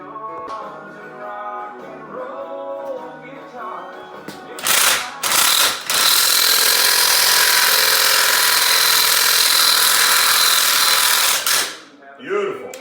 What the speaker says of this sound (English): So we'll hit it with the gun and knock it out.